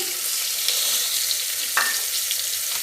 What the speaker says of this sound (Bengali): আলু কুমড়োটা একটু ভেজে নিচ্ছি বাদামগুলোও ভাজা হয়ে গেছে এবার গ্রেট করা আদাটা দিয়ে দিচ্ছি